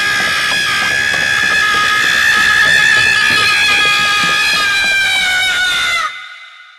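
A long, loud scream rings out in a Hindi horror story, a sustained shrill cry of someone running past that holds for about six seconds and then cuts off abruptly into silence.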